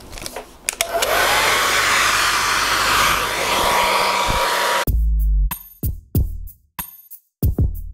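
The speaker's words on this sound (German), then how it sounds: "deswegen gehe ich jetzt ans Föhnen" A hair dryer blows steadily on curly hair for several seconds, loud and close, then cuts off into a series of short on-off bursts and clicks.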